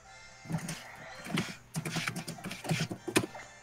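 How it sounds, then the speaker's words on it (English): Furious typing on a computer keyboard comes in rapid clattering bursts of clicks with short pauses between flurries, close and fairly loud, with no talking. "I hear furious typing."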